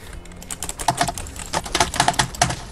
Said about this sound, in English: I can hear the, like, really ridiculous clicking.